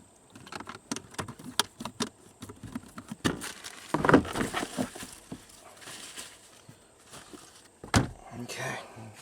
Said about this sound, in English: Now I gotta use both hands to hold the glove box and put the door on.